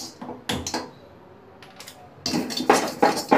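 An iron kadai set on a gas stove: clanking metal knocks and scrapes in short bursts, close and fairly loud, with a quiet gap between.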